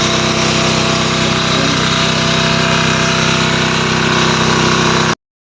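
Welding generator engine running steadily while powering welding work at a native house build in the forest, a loud, constant droning hum with no breaks that stops abruptly near the end.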